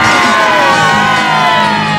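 Loud stadium crowd roaring and shouting together at a Juventus versus Lazio football match, a dense sustained cheer filling the whole moment without pause.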